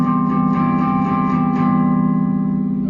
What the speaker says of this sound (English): the next chord that we play is that C with an E on bottom